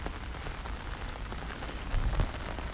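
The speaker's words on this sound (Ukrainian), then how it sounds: "прийшла злива" Dense, steady rain pours down at Blue Lake in Kyiv, a constant hiss of drops hitting surfaces, with no voices and a slightly louder gust near the end.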